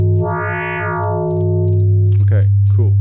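A Waldorf Iridium synthesizer playing an FM tone, sidebands blooming out of a pure sine into a bright, buzzing, harmonically rich sustained note, loud and steady; a voice talks over the end.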